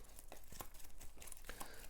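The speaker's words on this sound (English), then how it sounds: "then we shuffle the discard and place beneath the deck" Playing cards from a discard pile are shuffled during a tabletop card game, giving soft papery riffles and crinkly flicks in quick irregular bursts, close and fairly quiet.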